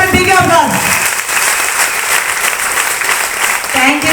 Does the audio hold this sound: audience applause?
yes